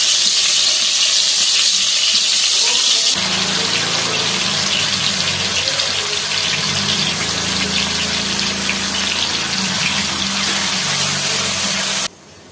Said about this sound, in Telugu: ఇలా పాత్ర అంతా ఇలా కడిగేసేసుకొని ఈ నీళ్లు అందులో వేసేసుకుందాం